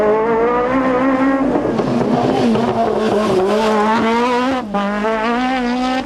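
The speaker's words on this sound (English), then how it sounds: "Now watch the sequential change on the MEGANE." Renault Megane Formula 2 kit rally car at the 1996 Ulster Rally, engine note loud and close, revs rising and falling across sequential gear changes with a brief dip near the end.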